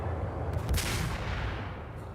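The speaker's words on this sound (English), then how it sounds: "Making heavy use of this sniper." A sniper rifle fires once in the video game Max Payne, a single loud close report with a short reverberant tail over low background rumble, no voices.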